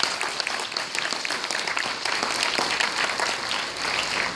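An audience at a scholarship dinner claps steadily for several seconds, dense and sustained applause that fills the room at a fairly even level, with a faint voice or two underneath.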